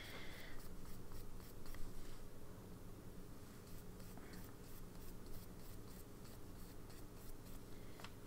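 A pen scratches ink across paper in steady, continuous strokes, with a run of quicker scribbles near the start and again toward the end, close and fairly quiet with no voices.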